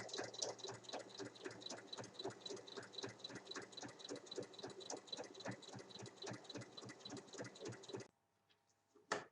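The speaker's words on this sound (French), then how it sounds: "je vais venir faire une surpiqûre tout autour de ma fermeture" A sewing machine topstitches around the zipper of a fabric vanity case, a fast, even mechanical stitching rhythm running continuously and close by, then stopping abruptly near the end.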